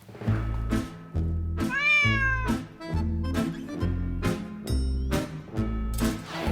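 A cat meows several times, clear and close, with one long rising-and-falling meow, over a steady low rhythmic thumping beat.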